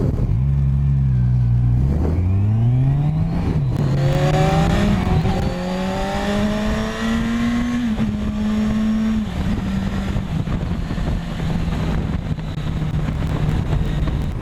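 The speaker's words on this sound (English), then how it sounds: "Kawasaki 4-cylinder 1000 is a peachy engine" A Kawasaki Z1000SX four-cylinder 1000cc motorcycle pulls hard through the gears, its engine note climbing and dropping at each shift over constant wind rush while riding.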